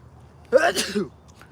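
A single sharp sneeze, close and loud, bursting out briefly against near silence.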